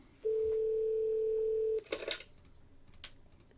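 A telephone tone from a basketball video game: one steady, clean electronic tone holds for about a second and a half, then gives way to brief clicks and faint chirps.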